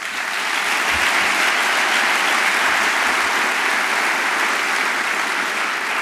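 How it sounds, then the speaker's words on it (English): Steady, sustained applause from a large crowd, dense and even throughout with no voices breaking through. "Another round of applause."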